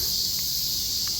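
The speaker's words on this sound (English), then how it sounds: "it's basically meant to give you an impression of all the sounds the cicadas and" Cicadas in the Kanazawa Castle gardens in Japan keep up a dense, continuous high-pitched buzzing drone, steady and loud throughout, with faint sounds underneath.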